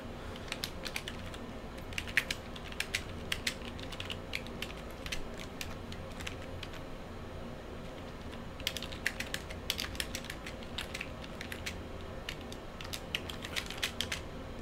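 Computer keyboard typing comes in quiet clusters of fast key clicks with gaps between bursts, close but faint over a low steady room hum.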